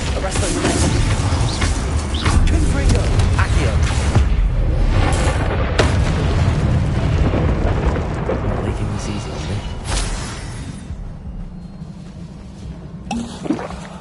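Spell blasts in the video game Hogwarts Legacy, a run of loud booming explosions and crackling magic impacts that roll on continuously, then thin out toward the end, with a voice calling out over them.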